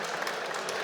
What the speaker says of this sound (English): A round of applause for Sven.